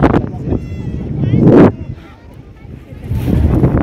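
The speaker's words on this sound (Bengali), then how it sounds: "সমুদ্রের পাড়ে এত ঠান্ডা হাওয়া আসছে, সমুদ্রের থেকে কিন্তু আসছে কিন্তু এই ঠান্ডা হাওয়া" Cold sea wind blowing at Bakkhali beach, a steady broadband rush with gusty swells, loudest in the first half and building again near the end, mixed with surf and brief voices in the background.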